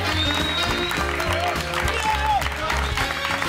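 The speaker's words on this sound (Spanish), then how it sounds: "recibir con un fuerte aplauso al señor Gabriel Gómez" An audience applauds as comedian Gabriel Gómez is welcomed onto a stand-up comedy stage, a steady wash of clapping lasting a few seconds, mixed with voices and tonal sounds.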